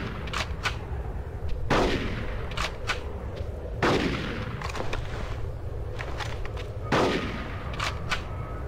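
Gunshots in Conker's Bad Fur Day, with three loud, sharp blasts spaced a few seconds apart. Softer clicks and game sounds fill the gaps between them.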